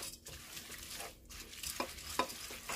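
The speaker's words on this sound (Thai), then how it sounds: "เราก็ใส่วุ้นเส้นลงไปจ้ะ คลุกเคล้าเข้าไปเลยเนาะ" Glass noodles are stirred and tossed in a pan with fried garlic and shrimp heads, giving soft scraping and clinking over a low sizzle, with a few sharper utensil knocks near the end and no talk.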